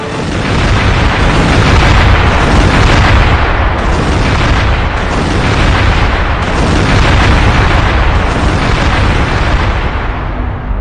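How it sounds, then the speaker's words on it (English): Explosions from an Israeli airstrike on Iran targeting nuclear and military sites, heard in news footage as a continuous, loud, dense rumbling roar of blasts and booms lasting throughout, with no talk. "Breaking news now happening live as the Israeli airstrike happened."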